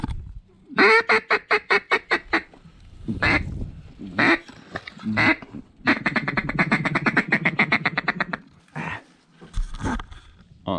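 Ducks quack in rapid bursts and long rattling series near a hunter in flooded corn, loud and close, with pauses and a few single calls between the runs.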